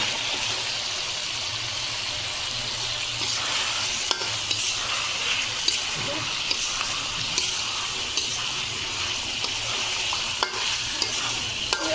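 Fish frying in a pan with a turmeric spice paste and crushed green chillies, a close, constant bubbling sizzle with scattered light clicks of a spatula.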